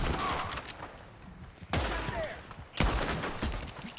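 Loud volleys of gunfire break out in a Red Dead Redemption 2 bank-robbery shootout, with three heavy bursts of shots and rattling echoes between them.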